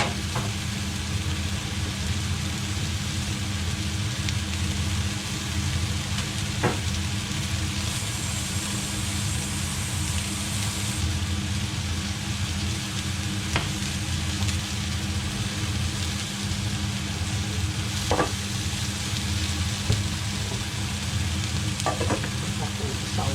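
Onions fry in a pan for a bangers and mash meal, a steady sizzle with occasional scraping stirs and clicks over a constant low hum, running without talk.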